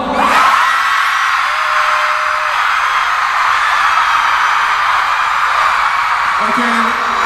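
A large concert crowd at a show screams loudly and continuously on a countdown cue, a dense sustained roar of shrieks and whoops with no pause.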